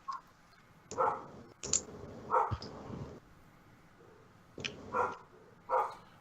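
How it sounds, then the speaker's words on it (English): A dog barks in short separate bursts, about six barks with pauses between them, fairly close and clear against a quiet room background. "I'm just gonna go see what she's barking about"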